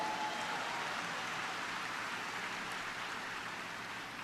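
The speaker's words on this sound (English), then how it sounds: "Please give them a round of applause." Steady, dense applause from a large crowd at an awards dinner, a continuous even wash of clapping heard from a distance without any break.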